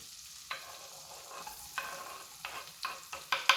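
Sliced shallots hitting olive oil and butter in a wok, giving a soft, steady sizzle broken by several sharp scraping stirs that grow louder and quicker toward the end, with no voices.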